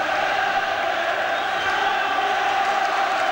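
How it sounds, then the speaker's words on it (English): Football supporters at a Rangers v Celtic match sing and chant in a dense, continuous roar, a large crowd filling the stadium with steady, loud song and counter-song throughout. "Meanwhile, the crowd have taken over. Song and counter-song."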